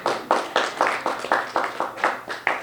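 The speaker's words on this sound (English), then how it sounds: "Can you give a big round of applause to the Abrahams for hosting us today?" Applause from a fundraising reception audience for the hosts, heard as about ten evenly spaced, sharp handclaps in a steady rhythm, fairly loud and close, with no voices.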